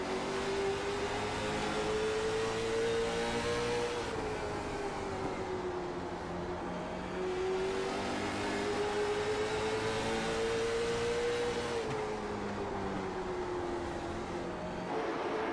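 A race car engine in the iRacing video game at Langley Speedway drones and revs, its pitch climbing and dropping through gear changes in a continuous, fairly quiet roar with no voices.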